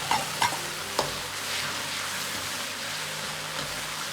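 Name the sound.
sauce sizzling in pan with scallions and tofu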